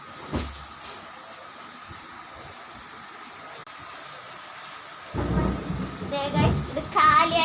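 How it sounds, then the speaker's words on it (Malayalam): Thunder rumbling and rain falling outside during a storm, a steady hiss of rain with heavy rolling thunder swelling near the end, heard from indoors. "നല്ല ഇടിയും മഴയൊക്കെ പുറത്ത് നടക്കുന്നുണ്ട് കേട്ടോ."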